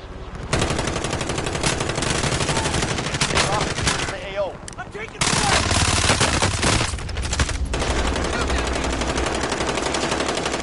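Sustained machine-gun fire in the video game Plunder: dense, loud bursts running almost without a break, with one short lull midway and heavy, close, continuous rattling.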